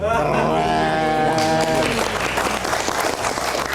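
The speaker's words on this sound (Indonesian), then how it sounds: "Kita berikan tepuk tangan sekali lagi" Audience applause for Om Indro at a live show, a dense burst of clapping that starts loud, then swells into a broader crowd ovation with faint voices mixed in.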